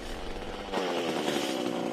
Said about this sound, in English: Maybe it's the chainsaw.